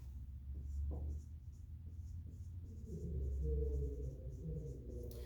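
Chalk or marker scratches in short strokes on a board during a real analysis lecture, faint and close, over a low room hum, with a brief pause between strokes.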